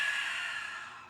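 Deep, full breath drawn in during a standing core and breathing exercise, a steady airy rush that holds for about a second, close and moderately soft, without any talking.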